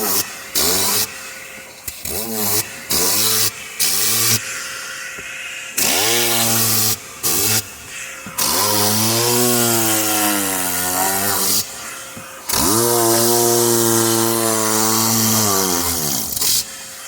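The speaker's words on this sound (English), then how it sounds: "let the compressor kick in a little bit." A Tornador Black air cleaning tool driven by a compressor, sounding as a harsh loud hiss and rasp in repeated bursts with short stops, its pitch sweeping and pulsing while it runs, close and with no talk over it.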